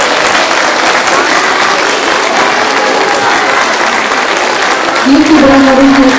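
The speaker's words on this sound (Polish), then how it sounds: "Jeszcze raz wielkie brawa do Monika" Steady, dense applause from an audience at a 2015 nativity play fills the whole stretch, loud and close, with a voice briefly rising over the clapping near the end.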